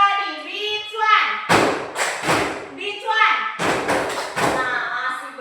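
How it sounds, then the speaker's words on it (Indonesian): A class of children claps together during a coding and artificial intelligence training session, a few rounds of loud, close, rhythmic claps in bursts, with an adult voice and children talking around them. "ayo tepuk dulu"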